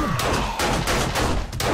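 Rapid bursts of gunfire in the zombie-survival game 7 Days to Die during a blood moon horde night, several overlapping shots crackling close and loud over a dense, steady background din.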